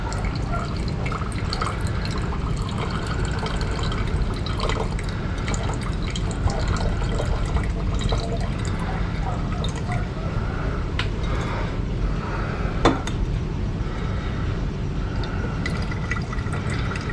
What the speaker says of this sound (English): We've got to pour it slowly, otherwise it tries to escape.